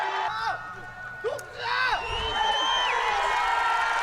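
Home crowd at a modern pentathlon event cheering for a South Korean athlete, shouts and whoops rising over a broad roar of applause and voices that swells and holds.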